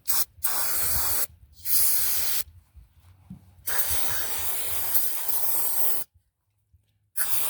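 Cleaner is sprayed through a part of a Craftsman lawn mower in several loud hissing bursts of uneven length, separated by short silences, with no talking.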